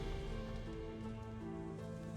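Steady rain falling in the fantasy role-playing game Chronicles of Myrtana: Archolos, a continuous soft patter over a low tonal background hum, with no talking.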